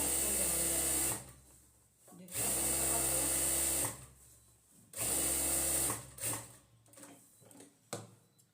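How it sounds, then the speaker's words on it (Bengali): A sewing machine stitches elastic onto a pajama waistband in three short bursts of close, whirring motor noise, separated by pauses with soft handling sounds. "আমি আর একটা সেলাই দিচ্ছি রবারে সেলাই দেবেন"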